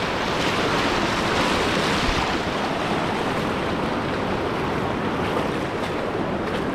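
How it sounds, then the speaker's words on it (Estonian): A trail-race runner wades through a river on the Wild Islands ultra course, water sloshing and rushing in a steady, loud wash that fills the clip with no voices. "käin parasjagu läbi jõe"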